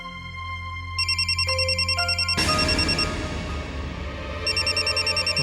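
A home telephone rings with a loud, repeated electronic trill in steady pulses that continue through the clip, with a brief shift in the ringing pattern midway.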